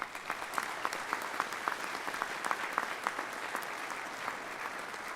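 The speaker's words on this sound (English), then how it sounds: "Would you please give these students a round of applause?" Applause at a Troy University honors convocation for honor society students in sport management, steady and somewhat distant, with individual hand claps audible across a large hall.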